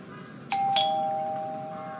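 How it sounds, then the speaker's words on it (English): A house doorbell rings with two clear chime tones in quick succession, the second note lingering and fading slowly, loud and close over a quiet background. "If you start ringing my doorbell one more time"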